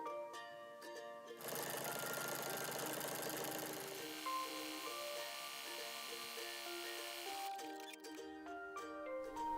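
Sewing machine running steadily while zigzag-stitching a turned hem on stretch fabric, a close, continuous mechanical whir that holds at an even pace, with a few tonal shifts and no talk.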